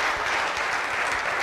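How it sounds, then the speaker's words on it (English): A church congregation giving a dense, loud, continuous burst of hand clapping during a Sunday worship service, close and sustained throughout. "Give the Lord a hand clap of praise"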